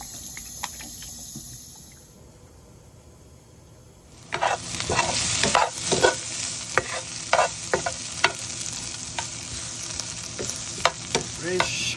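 Bitter melon frying in mustard oil: a quiet stretch, then a loud, steady sizzle breaks in, with repeated sharp scrapes and clatters of stirring close by.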